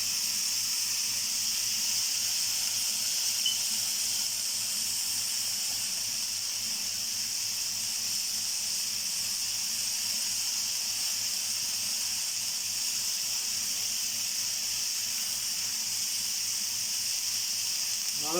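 Yogurt-marinated chicken sears in a hot pan for a shawarma wrap, giving a steady, loud sizzling hiss that holds evenly throughout with no talking.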